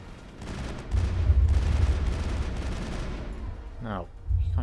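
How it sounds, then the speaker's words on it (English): Enemies fire guns at the player in the Mass Effect shooter, a sustained rattle of rapid gunfire with low thuds, ending with a brief sweeping weapon whine before the shooting resumes. "Oh, there's stuff shooting at us."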